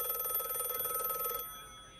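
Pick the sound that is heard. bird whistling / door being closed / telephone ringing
telephone ringing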